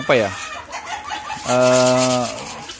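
Harsh, buzzy guinea fowl calls nearby, one short cry followed by a longer rasping call, with farmyard fowl sounds and some background noise.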